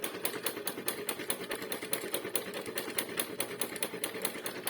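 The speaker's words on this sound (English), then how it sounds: "Because my hoover's going mad over this." A toy hoover runs over damp bedding with a fast, even, rattling clatter like a typewriter, steady and fairly quiet, with no voices.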